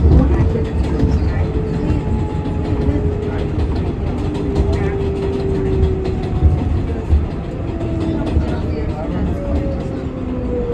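A New York subway R188 car on the 7 line rolls between stations with a loud steady rumble, wheel clatter and faint rising and falling motor whine, while voices talk over it inside the car.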